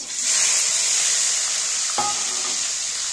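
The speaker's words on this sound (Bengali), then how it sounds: "তেলটা গরম হয়ে গেছে, এবার আমি সাদা জিরা দেব। দেবো দুটো তেজপাতা, এরপরে দেবো পেঁয়াজ।" Cumin seeds, bay leaves and onion sizzle in hot oil for a Bengali prawn and potato dish, a steady bright hiss throughout with a brief clink of a utensil partway through, close and alone.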